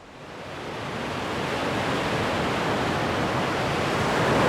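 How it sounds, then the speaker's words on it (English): A wild stretch of a gold-bearing hillside creek rushes steadily nearby, a dense, unbroken roar of whitewater that swells slightly louder over the span, with no voices. "That is a wild section of the creek right there."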